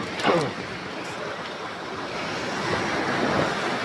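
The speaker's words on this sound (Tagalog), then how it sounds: "Ayan, lumakas na ang alon mga katambayan." Strong sea waves churn during Typhoon Ramil, a broad rushing surf roar mixed with wind buffeting the microphone, surging at the start and building again toward the end.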